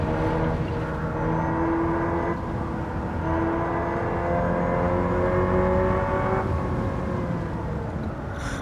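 Hyundai Ioniq 5 N electric car driving in Gran Turismo 7, a continuous whining motor tone that rises and shifts in pitch, steady and close, with no talk.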